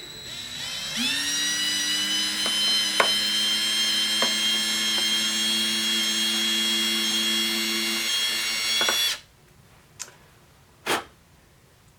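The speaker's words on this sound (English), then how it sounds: "just squeeze the trigger, watching the bit" A steady electric drill whine runs for several seconds close up as the bit bores through a guitar pickguard, with faint ticks, then cuts off, followed by a few scattered clicks.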